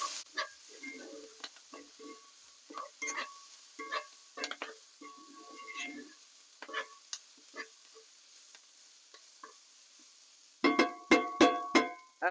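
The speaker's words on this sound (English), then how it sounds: "we're going to give these a stir, and you can see they're starting to get a little brown" Steak fajitas sizzle in a hot pan while a utensil stirs them, giving scattered scraping taps over a steady soft fry, ending in a cluster of sharp metallic clacks, close and with no talking.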